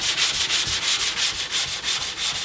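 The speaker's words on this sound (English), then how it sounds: "after you sand it down" Bondo body filler on an Acura Integra being sanded by hand, a close, steady back-and-forth rasp repeating in quick even strokes with no talk.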